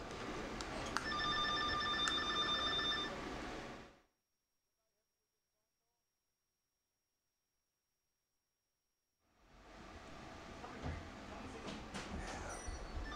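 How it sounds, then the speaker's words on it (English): A telephone rings in a few bright, steady tones over a busy room ambience, then everything drops to near silence for several seconds before the background noise returns. "Hold on, a phone call."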